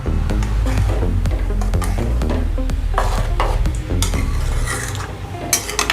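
A spoon scrapes and clanks against a metal pot of yogurt-based curry (mor kulambu) in repeated strokes, close up, with a faint sizzle underneath and no talking.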